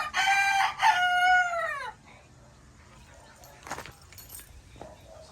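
A banded Sweater gamecock lets out one loud, close cock-a-doodle-doo lasting about two seconds. Quiet follows, with faint rustling and handling noises.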